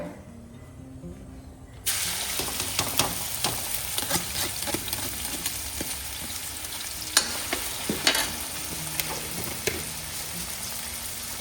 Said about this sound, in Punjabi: ਆਪਣਾ ਇੱਕ ਤੇਲ ਵੀ ਗਰਮ ਹੋ ਗਿਆ ਤੇ ਹੁਣ ਆਪਾਂ ਇਹਦੇ ਵਿੱਚ ਪਾਉਣ ਲੱਗੇ ਆ ਪਿਆਜ਼